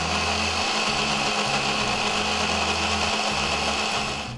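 A kitchen blender grinds soaked moong dal with a spoonful of curd into batter, running as a loud, steady motor drone throughout and easing off at the very end; no speech.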